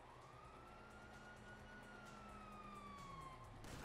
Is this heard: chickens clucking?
no